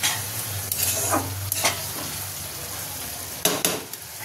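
Masala spice paste for ghugni frying in oil as it is stirred, a steady sizzle broken by a few scraping strokes of the spoon against the pan, close up with no talk.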